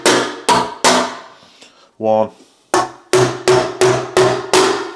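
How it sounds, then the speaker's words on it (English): Tin snips knock out metal knockouts on an electrician's fuseboard during a rewire, giving a series of sharp, loud metallic taps in uneven rhythm, about ten strikes with a brief gap in the middle where a voice speaks. "we're going to knock the knockouts out on the board"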